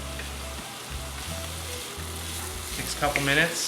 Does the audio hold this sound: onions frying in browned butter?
yes